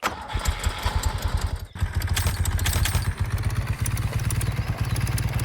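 Motorcycle engine in the farming video game Farmer's Life, a rough, throbbing put-put drone that briefly cuts out, then revs back up and holds a steady loud chugging idle.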